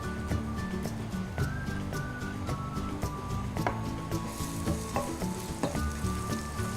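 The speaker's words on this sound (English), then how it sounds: "Once it starts to sizzle" Garlic and ginger sizzle in about three teaspoons of oil in a pan, a soft continuous crackle broken by regular knocks and scrapes of a utensil stirring.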